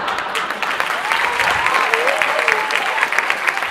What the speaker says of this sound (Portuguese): Não precisa aplaudir não, que é isso